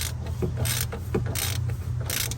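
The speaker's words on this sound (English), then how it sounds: "Taking a pry bar and I'm prying this back to get this to come off." A pry bar levering a part off the steering on a 1999–2004 Ford F-150, heard as three short, loud bursts of grinding metal scraping and clicking against a steady mechanical hum.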